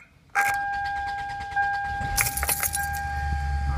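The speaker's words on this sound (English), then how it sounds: "But let's see what happens with the ignition switch. I'll turn it to start." An ignition key turns to start a 2002 Toyota Camry: a sudden jangle of keys and a click, then a steady dashboard chime tone with rattling and a faint low motor hum underneath.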